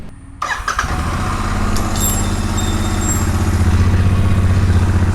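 A Royal Enfield Interceptor 650 motorcycle with its stock exhaust cranks and fires up, then settles into a loud, steady, close-up idle with an even low thrum that lasts to the end.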